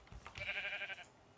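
A single sheep bleat in a video game, short and wavering, fairly faint and alone.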